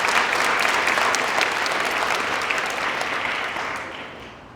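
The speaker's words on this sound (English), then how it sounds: "So let's give them one more round of applause." An audience at a speaking event applauds steadily, a dense wash of clapping that holds strong and then fades out toward the end, with no voices over it.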